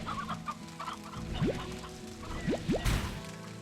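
Hens clucking in the video game Slime Rancher, a string of short, close clucks and chirps over a steady game background, with a brief splashy burst near the end.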